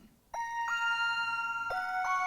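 A bell synth patch from a Roland D110 sound module rings out in several clear, sustained chiming notes, struck at intervals and layered into a soft, ringing chord.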